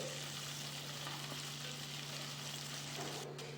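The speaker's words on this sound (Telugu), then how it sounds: "తర్వాత స్టవ్ పైన ప్యాన్ పెట్టేసుకొని దొండకాయల్ని ఫ్రై చేసుకోండి" Ivy gourds fry in oil in a pan on the stove, giving a faint, even sizzle with a constant low hum underneath and a brief stir near the end.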